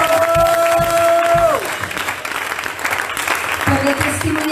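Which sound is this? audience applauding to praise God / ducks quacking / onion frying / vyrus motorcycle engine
audience applauding to praise God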